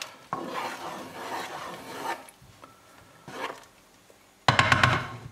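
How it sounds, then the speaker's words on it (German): A spoon scrapes and rubs around a pot of pork goulash, in soft intermittent strokes with quiet gaps between, then a louder clattering burst of scraping at the end. "Zwischendurch umrühren hat noch nie geschadet."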